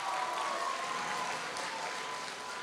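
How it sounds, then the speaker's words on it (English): Audience applause at a school Christmas concert greeting a new instrumental instructor, steady and moderately loud dense clapping across a hall, with no voices over it. "Mr. Gelati, you can give him a round of applause."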